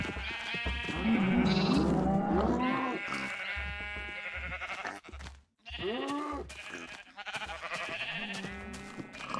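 Black and white sheep in Minecraft bleat repeatedly in wavering cries that overlap, fairly close. A person talks through and between the bleats, and a short quiet gap falls partway through.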